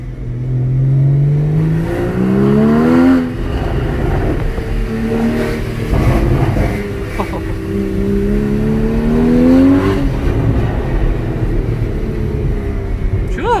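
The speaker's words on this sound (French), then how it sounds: "on va ouvrir un peu les fenêtres pour faire entendre les pétarades." Porsche Cayman GTS driven through a village with the windows open, its engine revving loudly up and down through the gears with crackling exhaust pops, close and continuous, with faint talk in the cabin.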